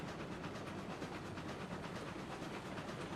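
A steam train from Railroads Online rolls along its track with a steady dense rumble and soft repeating clatter, loud and continuous with no pauses.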